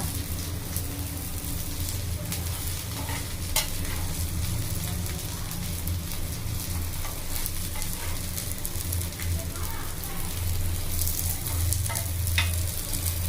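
Channa kebabs frying in oil, a loud continuous sizzle and crackle close by, with occasional spatula taps and scrapes as the pieces are turned, no talking.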